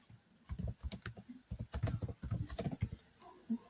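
Someone types on a computer keyboard, making quick, irregular bursts of close clicking keystrokes with short pauses between them and no talking.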